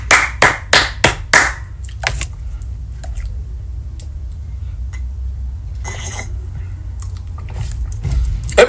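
A brief burst of audience applause for the youth at a church gathering in Miragoâne: several sharp rapid claps close up, then scattered claps and a quieter room hum.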